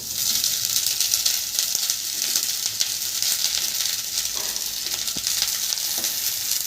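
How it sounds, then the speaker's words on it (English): Two cups of cooked rice hit a hot frying pan and sizzle steadily, a loud, continuous frying hiss with occasional scraping and stirring clicks. "so I'm going to be adding in the rice."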